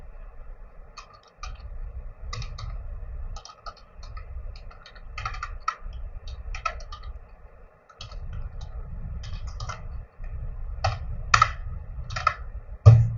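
Keys clack on a computer keyboard as commands are typed into an OpenFOAM terminal while setting up a 2D airfoil CFD case, in quick bursts of keystrokes separated by short pauses, close and clear with no talking.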